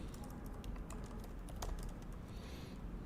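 Quick, uneven keystrokes tap on a computer keyboard, close and fairly quiet, in a steady burst of typing over low room noise.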